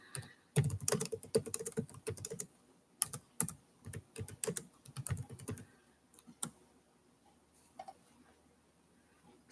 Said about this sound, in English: So I'm just going to type that in there.